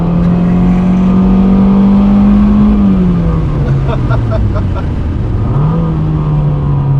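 A turbocharged Mazdaspeed 3 with an upgraded high-pressure fuel pump accelerating hard, a loud, rising engine drone heard from inside the car that climbs, drops at a shift, and climbs again, with someone talking over it.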